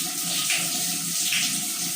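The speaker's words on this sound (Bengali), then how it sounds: "ঝর্ণা ছেড়ে, দেখেন গোসল করতে।" Steady water runs from a shower spray for pet birds to bathe in, a continuous close hiss of falling water with no talk over it.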